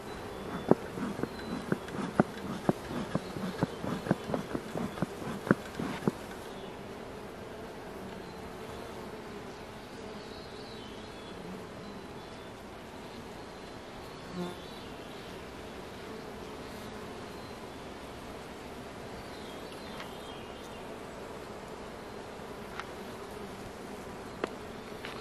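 Honeybees hum steadily around an open hive full of drying nectar, a dense continuous drone with a few clicks and knocks near the start.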